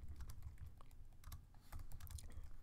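Steady typing on a computer keyboard while entering input for a Python program, with quick, closely spaced key clacks and no voice.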